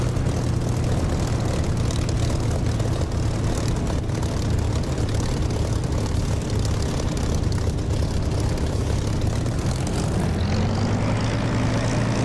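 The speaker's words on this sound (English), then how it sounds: "The engine was racing, they hit the prop pitch control, so you can't control your revs and it just shoots right up." Propeller aircraft engine in the DCS flight simulator, racing out of control after the prop pitch control was hit. A loud, steady droning roar runs throughout and shifts pitch near the end.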